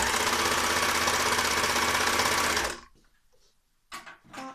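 An overlock serger stitches along the underside of a sleeve, a loud steady mechanical whir running for nearly three seconds before stopping abruptly, followed by quiet handling noises.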